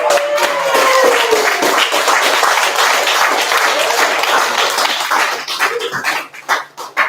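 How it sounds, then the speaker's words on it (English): An audience at a live poetry and art showcase bursts into loud, dense applause with cheering, then it thins out into scattered claps near the end. "can we get a round of applause?"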